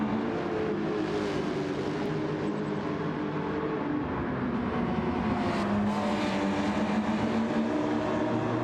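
A loud, steady engine roar with shifting pitch from a Honda NSX race car in Gran Turismo 7, revving continuously, filling the whole stretch without pause.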